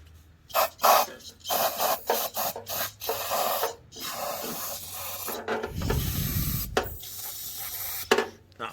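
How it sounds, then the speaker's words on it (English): Spray paint can used in a garage during a Toyota 4AGE engine swap into an AE71/KE70, hissing in short uneven bursts and sputtering, close and fairly loud, with a low rumble partway through. "it's annoying that these cans don't spray."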